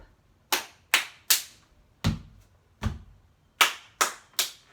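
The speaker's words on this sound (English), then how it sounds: "Now stamp your feet and clap your hands." Irish dance students stamp their feet and clap their hands in sharp, separate hits, with heavier thuds among crisper claps in an uneven rhythm, in a quiet room.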